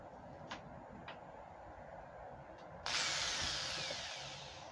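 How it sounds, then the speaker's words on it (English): A power drill gun drives a screw into wood, a loud, steady whir that starts abruptly about midway and runs on to the end, after a few faint clicks in a quiet room. "Just use a screwdriver or your drill gun, push down so that"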